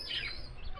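Pet pigeons give a brief, faint squawk and chirp at close range, a single short burst of calling with no talking.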